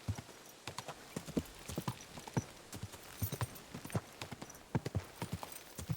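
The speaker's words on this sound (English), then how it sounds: "Easy, good horse." Horse hooves clip-clop steadily and close in the video game Kingdom Come Deliverance 2, a continuous rhythmic walk of sharp hoof strikes with a faint whinny-like touch.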